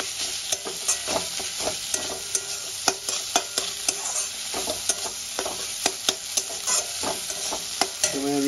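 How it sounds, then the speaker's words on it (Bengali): Tomato and spice masala fries in a pan until the tomato has melted down, with a steady close sizzle broken by regular sharp scrapes and taps of a spatula stirring every half second or so, and no talking. "টমেটোটা পুরো গলে গেছে, মশলাটা আমার ভাজা ভাজা হয়ে গেছে।"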